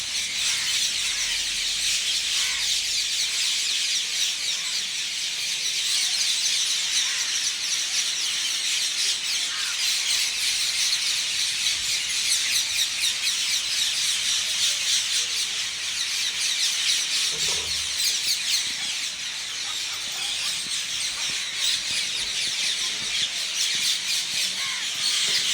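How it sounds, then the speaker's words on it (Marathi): A flock of parrots squawks high overhead in the open sky, a dense, continuous chorus of harsh calls steady throughout with no pauses. "आकाशामध्ये पण बघा किती पोपट आहेत"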